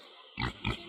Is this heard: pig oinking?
yes